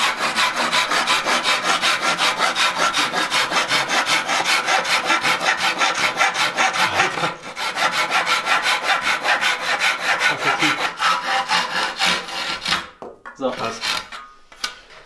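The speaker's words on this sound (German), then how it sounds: "Ist halt eine Japan-Säge." A Japanese pull saw cuts through wood while a small DIY desk is being built, giving steady, fast rasping strokes for about twelve seconds, then a short pause and a few slower final strokes, close and loud.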